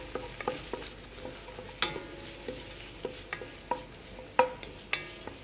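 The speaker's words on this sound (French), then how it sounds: "on va les laisser rissoler gentiment comme ça, sans trop les colorer" Sausages for rougail saucisse sizzle gently as they brown in a pan, with quiet frying broken by scattered clicks and taps as they are stirred and turned.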